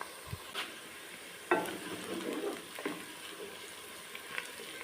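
Whole spices (cinnamon pieces, star anise, black cardamom, bay leaves and black peppercorns) sizzling in hot oil for chicken white pulao, a faint crackling fry with occasional stirring clatters, no talk.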